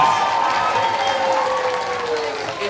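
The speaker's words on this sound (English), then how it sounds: "So give yourselves a round of applause." Audience applause and cheering at a live fan event tour show in New York, a loud dense wash of clapping with shouts and whoops rising above it, slowly tapering toward the end.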